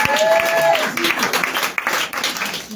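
A church congregation applauding to acclaim Jesus, dense clapping heard up close, with cheering and voices mixed in over the top.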